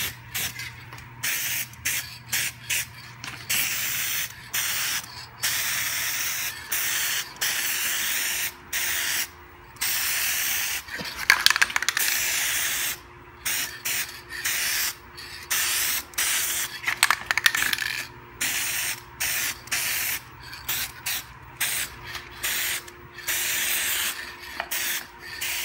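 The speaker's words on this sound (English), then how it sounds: "Gonna put on the adhesion promoter" Adhesion promoter sprayed from an aerosol can onto a Honda Prelude Si's car molding, in repeated short hissing bursts separated by brief pauses, close and fairly loud, with no talk.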